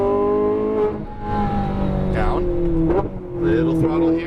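A Lamborghini Huracan Performante engine pulls hard on a racetrack, its strong harmonic drone climbing through upshifts with brief dips between gears, loud and close, with a voice talking over it.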